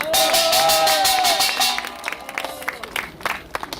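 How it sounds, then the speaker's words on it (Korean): Crowd applause and cheering at an outdoor political protest rally, loud and dense at first with a tonal voice or whistle over it, then thinning into scattered claps. "한 번 더 여러분 박수로 응원해 주시기 바랍니다."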